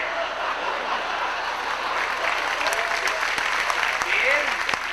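Comedy-show audience applause, a sustained crowd clapping at fairly even level, with a few voices and laughs rising briefly over it.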